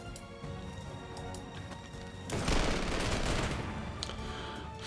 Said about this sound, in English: we have visual confirmation of naval gunfire landing right on top of the column of German armour